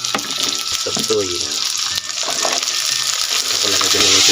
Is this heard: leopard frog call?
no